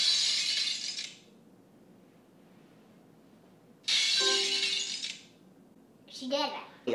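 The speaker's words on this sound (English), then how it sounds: "Here's a glass sound effect from YouTube." A glass-breaking sound effect plays through a phone speaker in a home, coming as two loud bursts of shattering with someone speaking briefly near the end.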